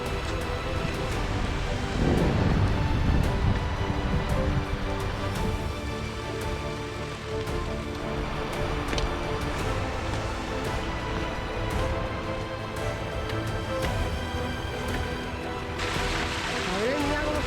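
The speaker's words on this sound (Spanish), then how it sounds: "El ruido de la cascada empieza a escucharse." Roaring Cascada del Chorro waterfall on the Ermitas route in the Pyrenees, a steady broadband rush of falling water that holds at moderate loudness throughout, with no breaks.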